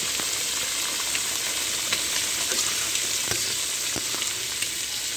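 Pieces of grass carp fish fry in a pan with a continuous, moderately loud sizzle. Scattered sharp crackles and pops rise above it, and no voices are heard.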